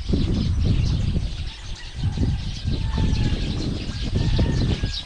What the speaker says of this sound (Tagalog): Daming ibon sa taas.